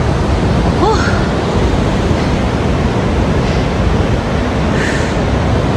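Waves breaking on the coast near Bilbao, Spain, merge with gusting wind into a constant loud rushing noise, with a few faint higher chirps drifting through and no clear speech.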